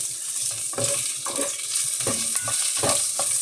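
Onion and ginger sautéing in a pan give off a steady, close sizzle, with repeated stirring scrapes and clinks against the pan throughout.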